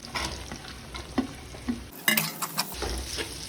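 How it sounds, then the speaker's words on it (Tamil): Onions being fried and stirred in a pan for mutton semi-gravy, a continuous sizzle with repeated spatula scrapes and clinks, one sharper burst of hissing midway, close and clear with no talk. "நல்லா மிக்ஸ் பண்ணி விட்டுருங்க. ஆனியன் நல்லா குக் ஆகட்டும்."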